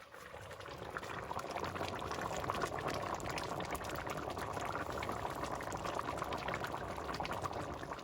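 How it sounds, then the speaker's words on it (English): Wine cooking down in a pot for osso buco, a dense continuous bubbling simmer that stays close and even throughout. "You can do this while the wine is cooking down"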